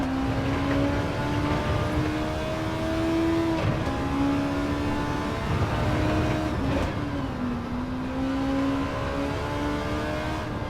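A car engine in Gran Turismo 7 drones loud and steady as the car accelerates through the gears, its pitch climbing and then dropping at each shift across a continuous run, with no talking.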